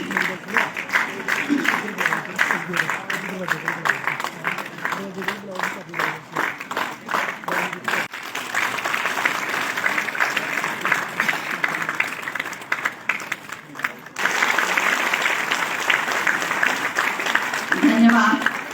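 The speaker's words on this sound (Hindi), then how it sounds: "तालियों की गूंज इससे ज्यादा" A crowd applauds at a medal ceremony closing a school games event in Jammu and Kashmir, clapping in bursts that swell and ease, sometimes with a rapid rhythmic beat and a voice heard briefly.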